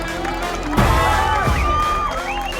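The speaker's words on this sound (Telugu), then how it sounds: "ఒకసారి అంతా గట్టిగా క్లాప్స్ కొట్టండి అప్ప" Crowd at a Madhela Cheruvu bull race prize ceremony cheering and whooping in a loud burst that swells partway through, with scattered shouts and voices mixed in; clapping is not distinct under the noise.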